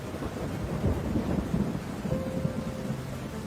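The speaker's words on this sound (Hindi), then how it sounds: "जोरों से वर्षा होने लगती है।" Heavy cartoon rain and rolling thunder at night, a steady loud downpour with low rumbling thunder running throughout, no voices.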